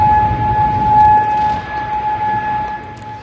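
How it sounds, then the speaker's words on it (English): Sustained air-raid siren tones across Kuwait during a missile alert, holding steady pitches, heard at a distance over a low rumbling background, continuing without break. "sirens were heard across Kuwait"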